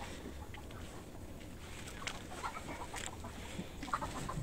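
Chickens at a poultry shop's coop in Sri Lanka cluck quietly in scattered short calls over a faint, steady background murmur.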